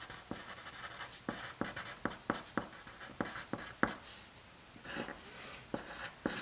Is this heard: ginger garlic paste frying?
no